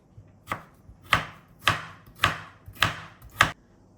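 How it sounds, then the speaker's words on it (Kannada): A knife thinly slicing cucumber for sushi on a board, six crisp, evenly spaced chops that land about every half second, close and clear with no talking. "ಈ ಕುಕ್ಕುಂಬರನ್ಲ ಏತ್ ನಮಕ್ ತೆಳುವು ಹಾಕೊಂಡು ಆತ ತೆಳುವಿಟ್ಟು ಕಟ್ ಮಲ್ಪೊಡು"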